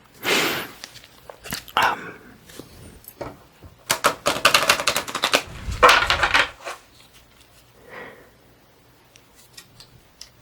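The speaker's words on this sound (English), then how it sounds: "I'm going to lay out 3 cards in each stack" Tarot cards being laid out in stacks of three, heard as close, crisp card snaps and slides in irregular bursts, some quick rapid flurries, with quiet gaps between.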